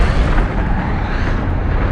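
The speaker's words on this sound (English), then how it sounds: "causing an almighty explosion that resounded across the cosmos" A massive explosion sound effect evoking a cosmic blast, a continuous loud rumbling roar that fills the whole clip without any pause.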